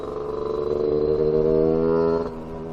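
A Casa Performance SST265 scooter engine on a greasy road gives a steady, buzzing, tonal drone whose pitch climbs gently, then eases off near the end.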